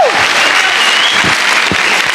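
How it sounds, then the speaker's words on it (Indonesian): Loud audience clapping for a stand-up comedian performing at Balai Sarbini, a dense burst of applause close and steady throughout with a few faint whoops beneath. "Tepuk tangan buat Mamat Al-Katire."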